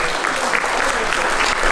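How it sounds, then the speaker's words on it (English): Audience applause for elementary school students at a visual and performing arts awards ceremony, a steady dense wash of clapping filling the room without pause. "Please stand up so we can give you a big round of applause."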